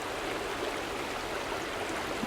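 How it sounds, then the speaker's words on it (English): A waterfall flowing outdoors, a steady, even broadband rush of falling water with no breaks and no voices. "I'm focused on the waterfall"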